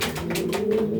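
Racing pigeons in a loft coo in a short, close, fairly loud burst of low throaty calls, rising and falling in soft pulses, with no talk over them.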